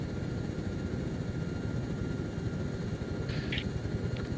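Helicopter in the Arma 3 military game, its rotor and engine drone steady and loud throughout with a dense low thrum, with a brief high-pitched tone near the end.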